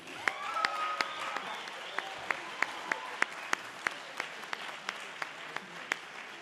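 An audience applauds a university big band, starting with scattered applause that thins out into a few sharp, spaced claps, with brief voices early on.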